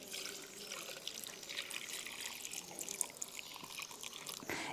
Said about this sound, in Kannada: ಜಾಯಿಕಾಯಿ ನೀರು ಬಿಡದ ಕಾರಣ ಕಡು ಉಪ್ಪು ನೀರನ್ನು ಸೇರಿಸಿಕೊಳ್ತೇನೆ